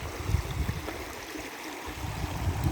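A river flowing and churning into bubbles on a hiking trail, giving a steady close rushing and gurgling wash of water with no talking.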